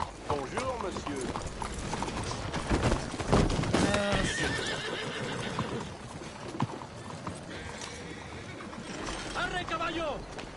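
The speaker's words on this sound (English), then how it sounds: "Arre, caballo!" A horse whinnies several times, loud and close, while hooves clip-clop in an uneven rhythm; people talk and call out over the animal throughout.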